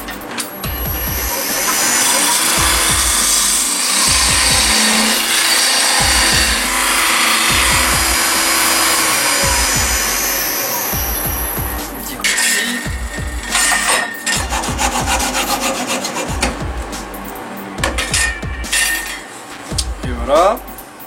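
A sweetgum wood piece for a nutcracker being cut by a power saw, a long steady whining cut that gives way to shorter intermittent bursts of sawing and clattering.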